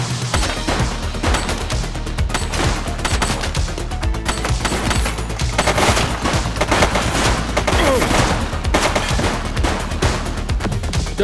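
Dense, continuous gunfire during a shootout in the police video game The Precinct, with rapid overlapping shots and bursts resembling automatic fire, loud and unbroken, forming a thick barrage with no pause.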